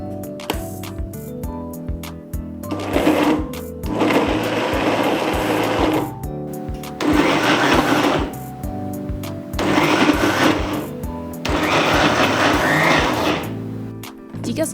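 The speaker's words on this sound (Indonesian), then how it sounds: "Lalu di blender sebentar aja ya," A kitchen blender whirs in short bursts while chopping red chilies and a tomato for Padang dendeng balado, four loud roaring pulses set against a background of music.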